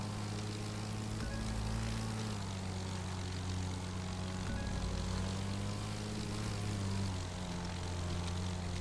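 A propeller plane in the racing video game The Crew 2 drones continuously, its engine pitch shifting slightly as it flies, steady and unbroken with no voices.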